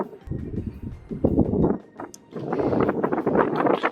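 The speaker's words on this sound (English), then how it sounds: "It's really windy out" Gusts of strong wind buffet the microphone in rough, rumbling bursts that rise and fall, with a short lull in the middle.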